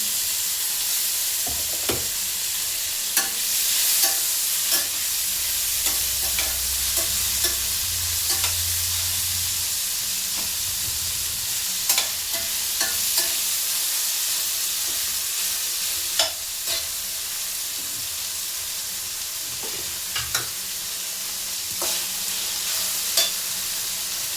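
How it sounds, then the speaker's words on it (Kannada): Tomatoes and soaked byadagi chillies fry in a pan for a vegetable kurma, giving a steady sizzle throughout with frequent clicks and scrapes of stirring, close and fairly loud, with no voices. "ಟೊಮೊಟೊ ಹಾಕ್ತಾಯಿದ್ದೀನಿ. ಟೊಮೊಟೊ ಮತ್ತು ಬಾಡಿಗೆ ಮೆಣಸಿನ್ಕಾಯಿ, ನೆನೆಸಿಟ್ಟಿರೋದು ಬಾಡಿಗೆ ಮೆಣಸಿನ್ಕಾಯಿ"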